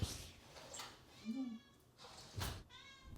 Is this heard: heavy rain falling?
no